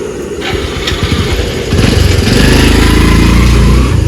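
A motorcycle carrying two laborers pulls away, its engine growling steadily and rising in loudness as it revs, a continuous close rumble with no voices over it.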